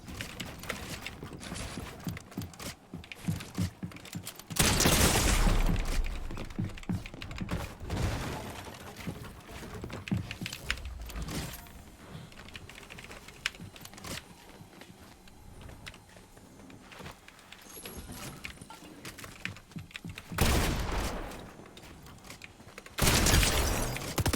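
SMG gunfire in Fortnite competitive play, rapid bursts of shots mixed with building and demolition crashes and footsteps, loud bursts around the middle and end of the stretch.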